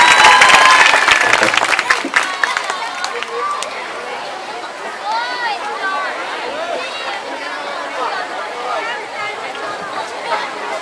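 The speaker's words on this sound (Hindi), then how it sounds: "आप लोग जोरदार तालियां बजाकर स्वागत करें" An audience at a Hindi poetry gathering claps loudly for a poet for the first few seconds, then the applause fades into murmuring crowd chatter and background voices.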